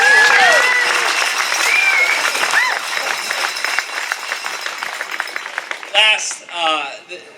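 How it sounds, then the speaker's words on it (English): A crowd applauds a state champion baseball team with dense, sustained clapping that thins out toward the end, joined by a few cheers and whistles. "Doug Snyder deserves another round of applause for this."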